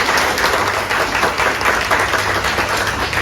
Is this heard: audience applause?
yes